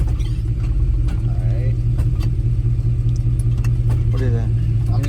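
A 1988 Chevy OBS truck rumbles steadily on a test drive, its engine droning low and constant from a nearby interior position, with voices talking briefly over the running motor.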